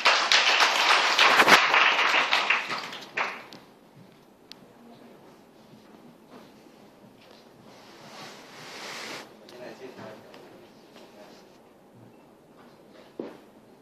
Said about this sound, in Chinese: 请掌声欢迎两位。